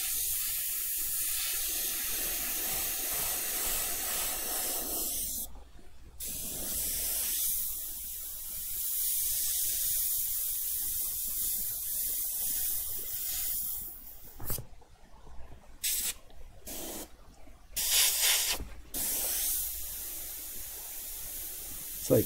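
An airbrush sprays paint in long steady hissing bursts. It cuts off briefly several times, and in the later stretch the bursts come in short pulses.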